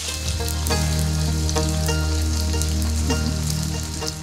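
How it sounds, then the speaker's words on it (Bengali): Crabs frying in hot oil give a loud, continuous sizzle with steady crackling, close up, and no voices. "গরম হয়ে গেছে, এবার আমরা হচ্ছে কাঁকড়াগুলো সব দিয়ে দিব"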